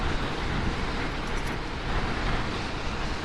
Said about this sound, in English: Oh, it's so windy, isn't it?